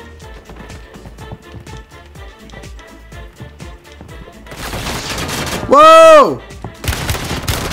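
Loud bursts of rapid gunfire in a video game come in quick volleys, with a sharp rising-and-falling tonal whoosh near the end and a voice exclaiming briefly.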